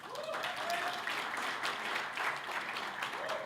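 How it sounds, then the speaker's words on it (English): A professional speakers' gathering in the Philippines breaks into a quick round of audience applause, dense clapping at steady loudness throughout, with a faint voice rising briefly over it. "can we just have a quick round of applause just to practice?"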